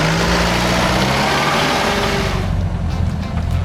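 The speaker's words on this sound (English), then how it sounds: "now it's time to take the Roxor up the same slope" A Mahindra Roxor climbs a slope in low-range second gear. Its engine drones loud and steady with a deep rumble throughout, and wind buffets the nearby microphone.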